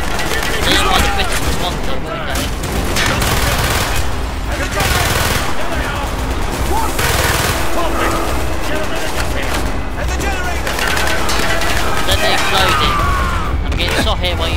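Game gunfire from Call of Duty: Black Ops, with sustained loud bursts and rapid automatic fire mixed with booms. It continues for the whole stretch alongside shouted voices and battle noise.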